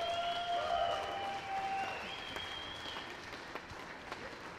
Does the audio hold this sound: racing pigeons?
no